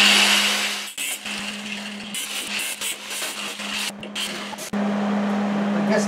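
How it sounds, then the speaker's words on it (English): A cutting tool grinds through welds on the frame of the gas tank of a 1953-1955 Ford F-100 truck, a steady harsh whine with a few brief pauses and a louder restart near the end. "I'm going to get these welds cut back on the frame of the gas tank itself"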